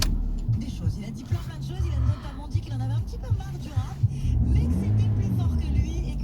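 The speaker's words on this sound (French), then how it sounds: "Là, on va démarrer le moteur." A petrol Volkswagen Golf running on E85 ethanol cranks and starts close by, its engine settling into a steady idle hum under a voice talking throughout.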